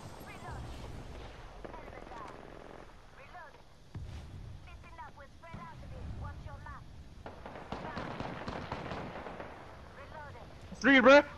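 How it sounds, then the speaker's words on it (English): Gunshots ring out in the video game Apex Legends as scattered bursts of shots at varying distances, with a loud cluster near the end, under ongoing talk. "the shots are coming from behind the bones"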